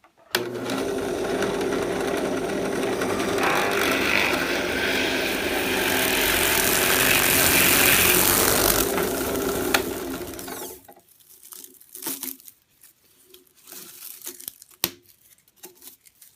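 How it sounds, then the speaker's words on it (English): A power drill bores steadily through wood for about ten seconds with a grinding, rising whine, then stops, leaving faint clatter and handling noises. "I like to drill through kind of half from each side"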